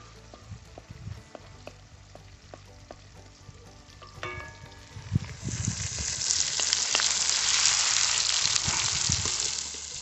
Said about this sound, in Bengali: আমাদের পেঁয়াজটা একদম লাল লাল করে ভাজা হয়ে গেছে